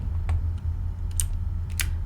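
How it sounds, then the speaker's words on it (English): Typing on a clacky computer keyboard, with a handful of sharp, close key clicks in an irregular rhythm over a low steady hum, no talking. "Clacky keyboard. Is it too loud?"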